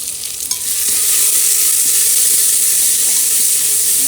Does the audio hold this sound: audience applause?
no